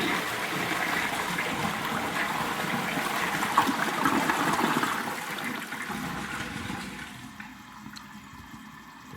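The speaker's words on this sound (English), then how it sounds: "So here will be a longer flush." A yellow 1979 Norris toilet gives a long flush, a steady rushing gush of water that holds for several seconds and then tapers into a quieter trickle as the bowl drains.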